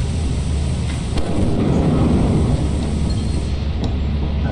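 A steady, loud rumble of thunder from lightning strikes in Lethal Company rolls on for the whole stretch, with faint crackles above it.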